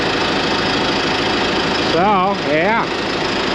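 A truck engine idles while warming up before pulling out, a steady low rumble with mid-range vibration, close and continuous, with someone briefly talking over it near the end.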